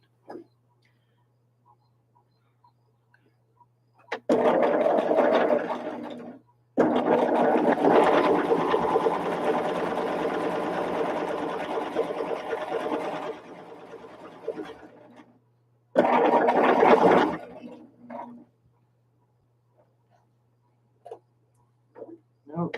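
A home sewing machine stitches jelly roll quilt strips together, running in a few steady whirring stretches of several seconds each, separated by quiet pauses, with no voices over it.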